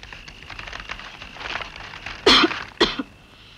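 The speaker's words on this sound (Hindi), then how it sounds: "शहर के नाम से सबको ही खांसी आ जाती है।" Two sharp, close coughs from a person, a short burst followed by a second, in an old Bollywood film scene with a soft hissing background and no talk.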